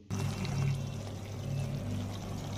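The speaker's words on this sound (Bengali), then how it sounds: "এবার আমি ভেজে রাখা আলু আর পটল দিয়ে দেব তার মধ্যে।" Fried potatoes and pointed gourd are tipped into a pan of cooked-down spices and oil, giving a brief, quiet sizzling, rustling pour that starts abruptly and continues steadily for a couple of seconds.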